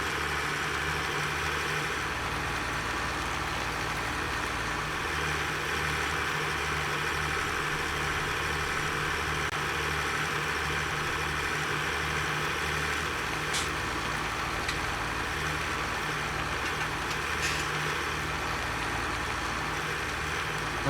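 A tractor engine in Farming Simulator 17 drones steadily while slowly pulling wagons loaded with straw, a continuous low hum and rumble at constant loudness with no talk.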